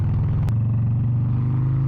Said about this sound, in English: Ah, listen to that exhaust!